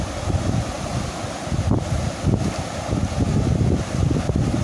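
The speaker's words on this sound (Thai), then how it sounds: "ลมมันแรงครับ" Strong wind buffets the microphone outdoors at a lift-net fishing spot on a cloudy evening, a steady, loud low roar with gusty swells throughout and no voices.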